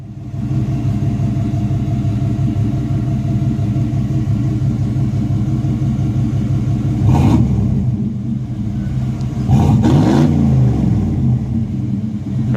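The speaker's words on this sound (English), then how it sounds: "Give her a rev." A 1994 Chevy C1500 Silverado with a MagnaFlow 40 series exhaust, 3-inch piping, V flanges and a catalytic converter idles with a loud, steady rumble, then gets two short throttle blips that swell and fall back.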